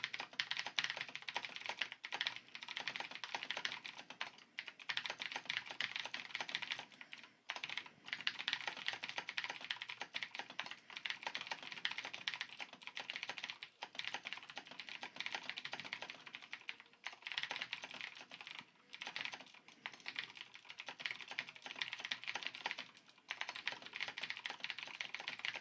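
Rapid, continuous clicking of a computer keyboard during a typing speed test, key presses running steadily for nearly half a minute with only brief pauses, close and fairly quiet, no talking.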